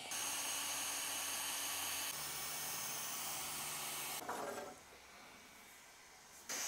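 A TwoTrees TS2 laser engraver cuts letters through 15 mm thick wood, giving a steady airy hiss and whir from the machine that shifts in tone partway through before dropping to a quieter hum and briefly returning.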